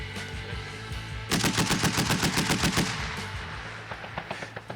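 A 12.7 mm heavy machine gun on a tripod firing a steady rapid burst of about a dozen evenly spaced loud shots, close by, over a constant background hum.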